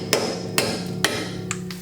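Hammer tapping a lug nut threaded onto an ARP extended wheel stud on a Mazda Miata hub, four sharp metallic strikes spaced about half a second apart, close and clear, the last one lighter.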